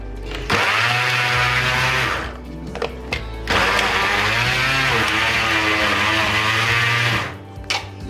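A kitchen blender mashes chicken with garlic and green chillies, whirring loudly in two long runs separated by a short pause, its pitch dipping and rising as the mixture thickens.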